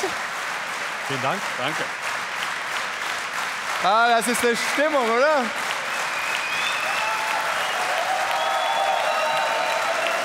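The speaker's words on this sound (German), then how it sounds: "Ihr Applaus." A talk show audience applauds steadily throughout a live event, with someone talking over the clapping near the start.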